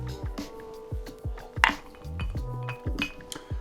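Homemade ice balls clinking into a whiskey glass, a rapid series of close, bright chinks and knocks with ringing glass tones, one louder clink midway, and no talk.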